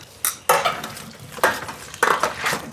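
Salted potatoes are tossed with oil in a pan alongside ribs. A few sharp scraping and clinking strokes of a utensil against the pan come at irregular moments with soft rustling between them.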